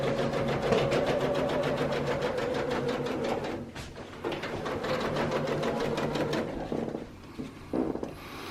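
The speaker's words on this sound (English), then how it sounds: "And then you're just going to sew down with a 1/4 inch." A sewing machine stitches down quilt binding with a 1/4 inch seam, running in a steady rapid mechanical whir with a few brief pauses and restarts, close and loud, with no talking.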